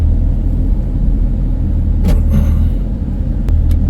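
Interior rumble of a Hyundai Grand Starex camper van driving on a road, a steady low engine and road drone with a few faint clicks and knocks toward the end.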